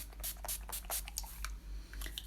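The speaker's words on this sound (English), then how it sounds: "One more time with finishing spray." Finishing spray misted onto a made-up face during a makeup routine, a series of short, close hissing spritzes in quick bursts, fairly quiet with no talking.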